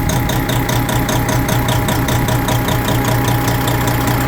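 A Detroit Series 60 12.7 diesel engine running rough after a fuel filter change, a loud, close, steady knocking idle with rhythmic pulsing throughout.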